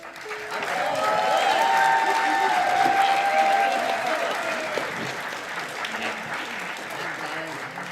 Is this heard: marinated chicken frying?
no